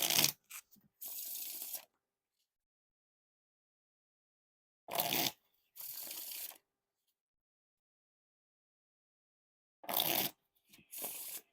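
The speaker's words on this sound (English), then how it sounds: "Now time for the riffle shuffle or bridge shuffle." Three riffle shuffles of a Harmony Collection Space edition deck of playing cards, each a close, crisp ripple of flicking cards followed by a softer bridge cascade. Quiet pauses separate them.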